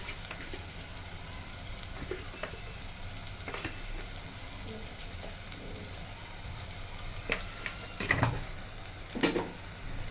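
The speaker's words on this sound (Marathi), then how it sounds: "हे सगळं परतून घेते मी" Spices with biryani masala sautéing in a pan, a soft continuous sizzle broken by intermittent stirring clatters that grow louder toward the end.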